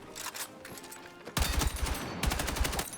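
Rapid burst fire from a weapon in the video game Battlefield 6, with a quieter stretch of shots giving way to two loud, close bursts of evenly spaced rounds.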